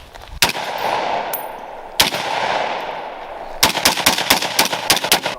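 Loud 9mm firearm shots ring out nearby: two single reports spaced apart, then a rapid string of about ten shots.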